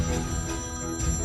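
A telephone ringing, with a bright electronic trill repeating in short pulses, close and steady, alone without speech.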